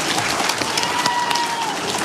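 Second- and third-grade schoolchildren clapping for themselves in an elementary school room, a dense, steady patter of many small hands lasting throughout without a break.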